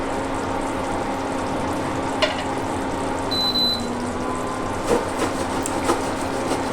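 Tengra (gulsha) fish curry with mustard paste sizzles and bubbles steadily in a pan, with a few soft scraping and stirring knocks from a utensil over the constant simmer.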